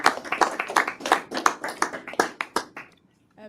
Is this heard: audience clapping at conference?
yes